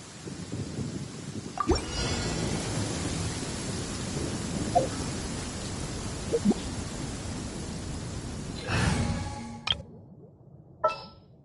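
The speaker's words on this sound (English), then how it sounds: "Wait a downpour. Nothing will get done until it clears." Steady heavy downpour hisses throughout a rainy scene in the video game Genshin Impact, with a few sharp cracks and a swelling rumble of thunder near the end.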